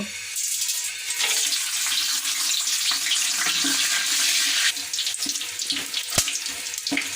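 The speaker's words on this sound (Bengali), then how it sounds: "তেজপাতা 5-6 টুকরা, দারুচিনি 5-6 টুকরা, গোলমরিচ, লবঙ্গ, স্টার আনিস, বড় এলাচ, এগুলো আমি এখন ফোড়ন দিব" Whole spices (bay leaves, cinnamon sticks, black pepper, cloves, star anise, black and green cardamom) crackle and sizzle in hot oil for biryani, a steady loud hiss with occasional pops and a sharp click near the end, no voices.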